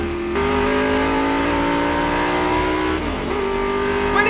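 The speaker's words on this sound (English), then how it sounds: "There's some guy in an old race car on the track!" An old race car revs hard on a track, its engine note climbing steadily in a loud, continuous acceleration before a brief shift and renewed pull.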